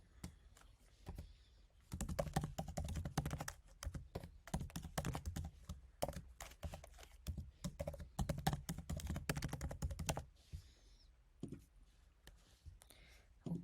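Fingers type on a computer keyboard while an online account is set up, bursts of quick, faint key clicks with short pauses between them, in a quiet room.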